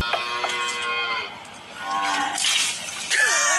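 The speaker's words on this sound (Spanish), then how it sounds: "Simplemente Vaca" A cow lows in a loud, drawn-out moo, with a few short harmonic calls and a rising, wavering moo near the end, close and clear with no talking.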